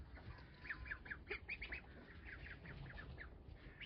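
Ducklings feeding outdoors on a farm, giving a string of faint high peeping calls in quick bursts over low background rumble, with no speech.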